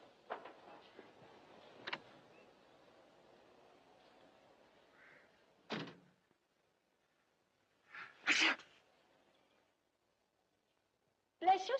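A woman sneezes in an old film scene near a broken-down truck, with a loud, sharp burst standing out after quieter dialogue. Brief bursts of noise and pauses surround it, and people talk earlier.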